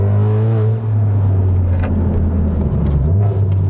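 A 2022 Honda Civic Type R FK8 engine pulls hard in third gear, a loud, close, steady droning roar that dips briefly and then climbs again.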